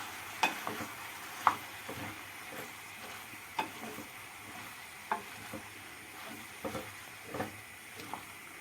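Spoon scraping and stirring through potatoes and tomatoes frying in a pan, with soft intermittent clacks over a steady low sizzle.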